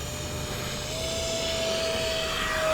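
Steady high-pitched whine of an Arrows Hobby Marlin RC jet flying after takeoff, a thin whistling tone held over a soft airy roar that grows slightly louder toward the end.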